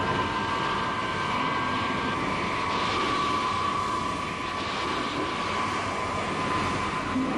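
A US Navy F-9 Panther jet flying in the Korean War era gives a steady, distant engine roar with a faint whine. It holds at an even level throughout, with no voices.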